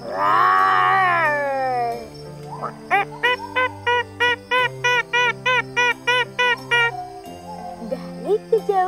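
A voice imitates an animal's roar in one loud, drawn-out cry, followed by a quick run of short, evenly spaced pulsing tones.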